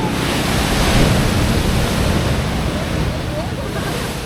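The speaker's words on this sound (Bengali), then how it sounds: "সমুদ্রের আওয়াজ নিশ্চয় আপনারা শুনতে পাচ্ছেন" Ocean surf rolling onto the beach at Ao Nang, Thailand, a steady broadband roar of breaking waves with some wind buffeting on the microphone, loud and continuous throughout with no pauses.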